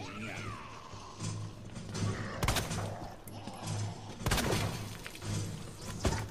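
Bursts of gunfire in Resident Evil 2 crack through a dense mix of in-game effects, with a couple of loud sharp impacts standing out.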